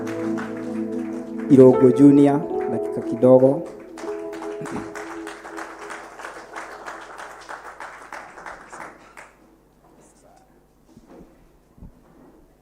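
A church congregation at a Sunday service applauds, a steady wash of many hands clapping that fades out, following loud speech and music at the start, with a voice speaking at the start.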